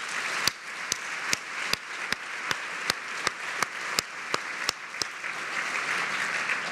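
An audience at a world congress of francophone nurses in Geneva applauds, a steady bed of dense clapping punctuated by regular sharp, loud claps close to the microphone.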